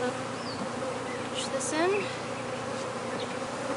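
Honeybees buzz steadily in an open hive during a queen swap with a push-in cage, a dense close hum with occasional higher passing whines as a voice speaks briefly over it.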